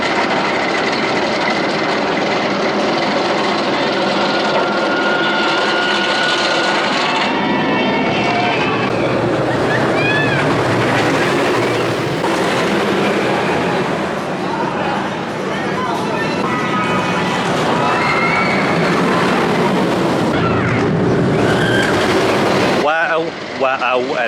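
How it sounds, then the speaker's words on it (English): Steel Vengeance, an RMC hybrid roller coaster at Cedar Point, roars continuously with a rumbling, rattling train sound and rising whooshes over a busy park, with a person talking over it. "Fantastic RMC Rock and Iron Construction hybrid coaster, and it's just gone down just about to go down behind me."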